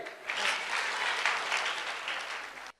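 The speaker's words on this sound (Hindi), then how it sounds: "अगर 10 में 10 तो तालियां बजाइए" A crowd applauds steadily for a few seconds at an outdoor government public event, a dense wash of clapping that cuts off abruptly.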